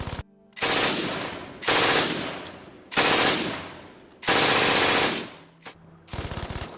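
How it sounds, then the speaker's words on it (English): A real MG42 machine gun fires four loud, sustained bursts with an extremely high rate of fire, each lasting about a second, separated by brief gaps, ending with a shorter rattling burst. "here's the sound of the real MG42 in real life."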